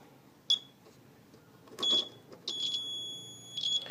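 A battery-powered cable tester used for a DirecTV install gives short high-pitched electronic beeps, one brief chirp then a longer steady tone and another chirp, with faint handling noise around them.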